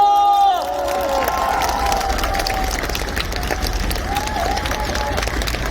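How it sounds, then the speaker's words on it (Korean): Outdoor crowd applauding and cheering at a presidential campaign rally in a station plaza in Gumi, South Korea, steady and loud throughout, following a sustained tone at the start, with scattered shouts. "큰 박수로 맞아주시기 바랍니다."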